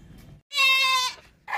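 A sturdy, healthy male goat offered for sacrifice gives one loud, drawn-out bleat from close by. A quieter bleat starts just as the clip ends, and nobody speaks.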